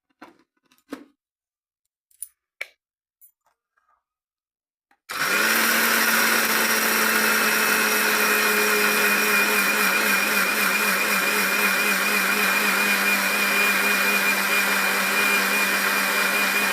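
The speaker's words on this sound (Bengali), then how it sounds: "এই যে মিক্সিতে সব পেস্ট করে নেব" A mixer grinder blends vegetables into paste in a home kitchen. A few soft clicks and knocks come first, then the motor starts abruptly with a loud, steady, high-pitched whir that runs continuously for about twelve seconds.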